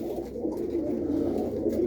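Pigeons cooing in a loft on a rainy morning, low steady rolling coos from several birds close by, with no talk.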